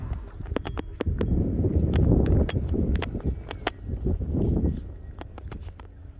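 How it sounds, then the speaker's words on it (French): Phone accessories rattle and click irregularly in gusty wind, sharp taps scattered over a rushing, buffeting wind noise close to the microphone. "Ce sont des accessoires accrochés à mon portable qui volent au vent."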